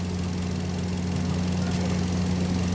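The freshly overhauled engine of a Hyundai Grand idles with a steady, even low rumble, loud and close, with no break. No voices are heard.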